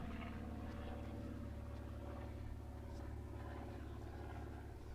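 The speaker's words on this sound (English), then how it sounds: "excuse the noise, there's an aeroplane going over." A steady, droning aeroplane engine rumble holds throughout as it passes overhead a field in Kent, loud and continuous with no talking.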